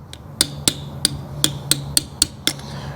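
Steel hammer striking a brass punch against a trailer axle nut on a 9K-15K axle during bearing adjustment: eight sharp, ringing metallic taps at a steady, fairly quick rhythm, close and clear with no talking.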